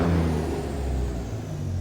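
A Cummins Gen 2 engine in a Kenworth W900 hauling a 66,000 lb excavator in American Truck Simulator revs up as a loud, steady low drone, heard alone without talk.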